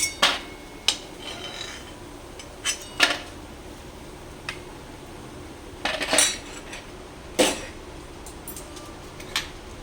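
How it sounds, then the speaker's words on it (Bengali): Metal utensils clink and scrape against a pot in short, scattered bursts as fried lentil dumplings (bori) are lifted out and moved into another pot, fairly close and quiet between the knocks. "বড়িগুলো ভাজা হয়ে গেছে এবার আমি অন্য পাত্রে তুলে নিচ্ছি"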